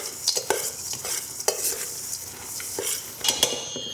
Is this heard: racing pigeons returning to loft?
no